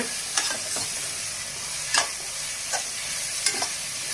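Onion, tomato and ginger-garlic paste sautéing over low flame for prawn biryani: a continuous loud sizzle broken by a few sharp spoon scrapes and stirs against the pan, no talking.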